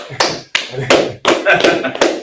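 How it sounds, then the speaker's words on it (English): An audience at a Hebrew-characters class claps for a participant in a few loud, broad bursts of hand claps with short gaps between them. A voice is heard underneath. "Clap it up for that sister"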